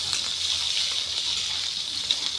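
Onion, garlic and green chili fry in a pan with a steady, bright sizzle that holds at an even level with a few small pops.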